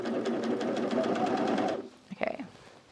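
A sewing machine stitching the side seam of a pair of pants runs steadily and loud at close range for nearly two seconds, then stops. A few soft handling clicks follow.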